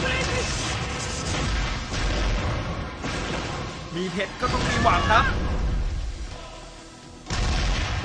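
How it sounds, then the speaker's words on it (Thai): Game sound effects from Seven Deadly Sins: Grand Cross gacha pull boom and burst loudly in a golden explosion, with a bright shimmering chime in the middle, while someone talks excitedly over them. "โหระเบิดสวยงามสีทองอาราม"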